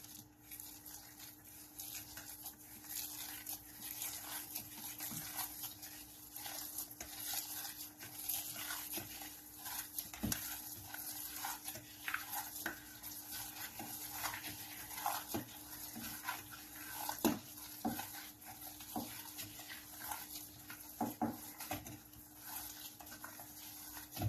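Batter is stirred in a bowl with soft, repetitive scraping and occasional clinks of a utensil against the side, quiet and steady throughout.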